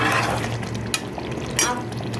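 Achari chicken with green chilies is stirred in a pan, soft scraping over a steady hiss of cooking with a couple of faint utensil knocks, close and continuous.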